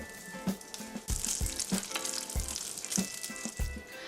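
Hot fat sizzles steadily while water droplets pop and spatter in sharp, irregular bursts, close up, with a faint hum underneath and no talking.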